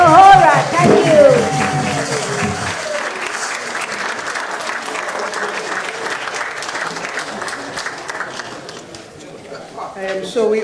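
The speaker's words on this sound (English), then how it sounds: "Let's give them a round of applause again, please." An outdoor crowd at a housing handover ceremony applauds steadily, with a dense wash of clapping that fades slightly near the end. A voice speaks over the start before the applause carries on alone.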